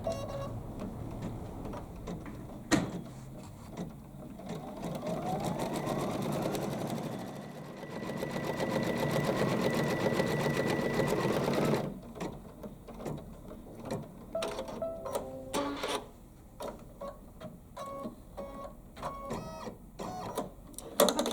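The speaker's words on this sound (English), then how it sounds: "we're going to put it back in the sewing machine, and the next thing that's going to happen is the pink cheeks" An embroidery sewing machine stitches out pink cheeks, a steady close mechanical whirring and rapid needle tapping that runs for most of the stretch, then turns into choppier, intermittent clicking toward the end.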